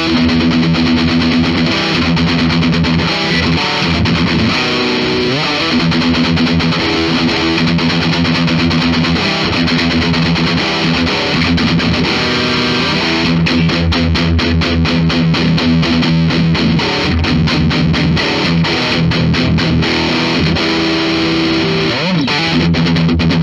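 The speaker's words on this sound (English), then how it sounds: "let's go ahead and try some distortion." Heavily distorted 2022 Gibson Custom Shop Dave Mustaine electric guitar plays continuously, with sustained crunchy chords and faster chugging, palm-muted riffs toward the end; loud and close.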